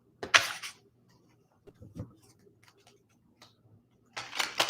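Tarot cards are shuffled on a cloth-covered table in two short riffling bursts, one at the start and one at the end, with faint soft taps in between.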